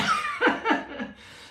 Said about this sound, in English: bit of a cough there